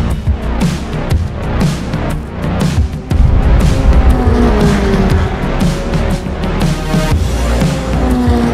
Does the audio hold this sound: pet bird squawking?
no